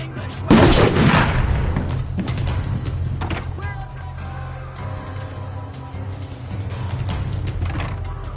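Heavy bombing explosions strike in We Happy Few, a loud booming blast with a rumbling low tail followed by lingering debris and rattling sounds, while game voices and ambient noise continue beneath.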